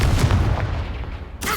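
Confringo blasting spell cast in Hogwarts Legacy on Xbox: a booming, rumbling explosion that fills the moment, followed by a second sharp burst at the end.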